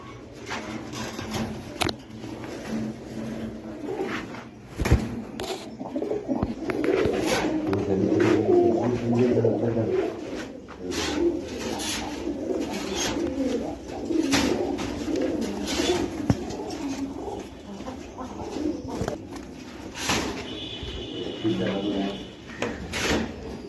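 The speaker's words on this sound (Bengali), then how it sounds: "এখানে গিরিবাজ আছে, জোড়া জোড়া গিরিবাজ।" Giribaj pigeons kept in pairs at a busy pigeon market coo steadily in low, soft bursts, with people talking nearby and occasional clatters of cages or drawers.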